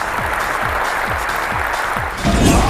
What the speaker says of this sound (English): he delivers the hit, and the crowd goes wild.